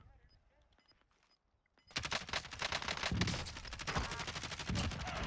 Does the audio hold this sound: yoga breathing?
no